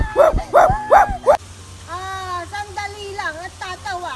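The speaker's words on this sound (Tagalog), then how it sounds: "mag-iingat ka dito dahil may aso dito" A dog barks four times in quick succession, loud and close, followed by softer whining and yipping sounds while a person talks nearby.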